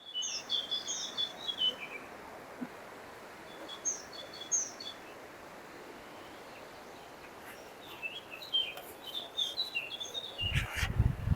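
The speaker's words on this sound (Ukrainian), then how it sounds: "Синиця обізвалась." Tit calls chirp in short bursts, thin and high, at a moderate distance against quiet woodland ambience, with a brief thump near the end.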